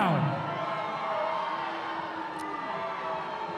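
A crowd at a boxing arena shouts and cheers in a steady, loud roar, with whoops and bellows rising over the mass noise and an announcer's voice carrying through it.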